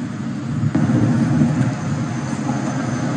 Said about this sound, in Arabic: طائرة النقل كاوازاكي C-2 هي طائرة نقل عسكرية متوسطة الحجم ذات محرك نفاث بعيد المدى